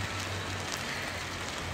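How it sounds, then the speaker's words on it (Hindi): Steady rain falls in Japan in cold weather, a dense, constant hiss with no other sounds standing out. "एक जापान है जहाँ पे बारिश हो रही है और साथ में ठंड भी बहुत है"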